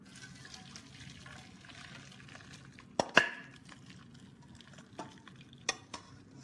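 Boiled cabbage is drained of its water, a quiet trickle with a few sharp clanks and splashes of the pot partway through.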